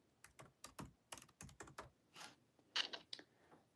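Typing on a computer keyboard in the note-taking app Notion: a quick run of crisp, close key clicks in uneven bursts, then a few softer keystrokes and pauses, with no talking.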